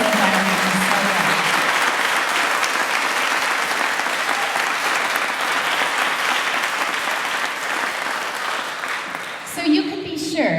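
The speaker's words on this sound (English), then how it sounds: "our facilities and housekeeping need a great big round of applause" A large crowd at a Colorado State Capitol event gives a long, loud round of applause, a dense continuous roar of clapping that fades out at the end, with a voice breaking in as it dies down.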